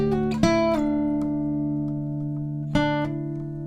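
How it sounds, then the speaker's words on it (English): Acoustic guitar plays the intro to a song, with a few plucked notes and strummed chords that ring and sustain, close and clear, and no talking. "And the intro sounds like this."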